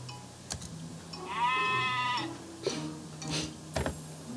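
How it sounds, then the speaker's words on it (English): Sheep bleat inside a shop in the video game Heartbaked, with one long wavering bleat in the middle and several shorter bleats around it over a quiet ambient background. "those sheep in my shop?"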